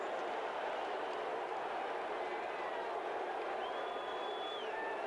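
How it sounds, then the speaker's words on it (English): A New Zealand rugby league crowd roars after a try in the 1987 Australia versus New Zealand test match. The stadium noise is broad and sustained, with a brief whistle-like tone rising out of it near the end. "And listen to this Kiwi crowd"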